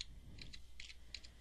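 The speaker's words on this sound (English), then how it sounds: "so we're going to type those in" Keys tapped on a computer keyboard while numbers are entered, a few quiet separate clicks at an uneven pace over low background hum.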